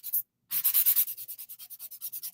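A sanding wedge is rubbed over the edge of a cosplay piece in quick, rhythmic strokes. After one brief scrape and a short pause, a steady run of about fifteen close, scratchy passes follows with no voice.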